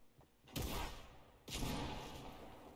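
Two loud bursts of video game gunfire about a second apart, sharp onsets trailing into rumbling decay, with no talking.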